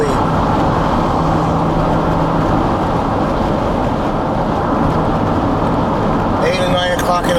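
Dense, steady roar of highway traffic on I-4 East near Kissimmee, Florida, a continuous wash of tires and engines with no breaks, with a few faint tonal squeals near the end.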